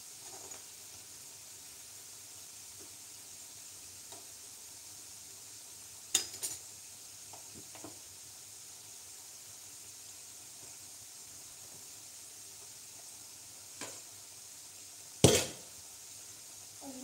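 Potato fries frying in oil give a faint, steady sizzle throughout, with a few scattered pops and crackles, one sharper pop near the end.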